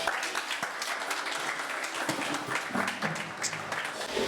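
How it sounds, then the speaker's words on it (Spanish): A church congregation gives a round of applause during a sermon, a sustained, fairly loud spread of clapping with a few voices calling out in the mix. "Denle un aplauso al Señor por eso"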